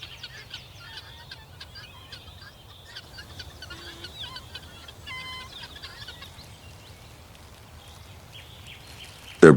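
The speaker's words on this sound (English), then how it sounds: "a flock of guinea fowls walk silently, occasionally making short, metallic clatters like metal on stone" Guinea fowl in a flock on open savanna ground give short, sharp metallic clatters and clicks, scattered and intermittent at moderate distance over a faint outdoor background, with a brief loud knock at the very end.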